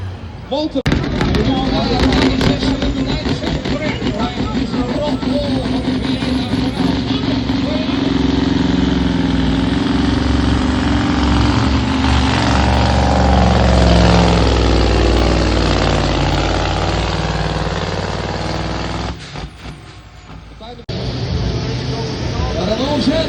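Tractor engine roaring at a truck pulling event in the super sport class at Mondvoord 2025, loud and sustained for many seconds with a brief dip near the end, while an announcer talks over it.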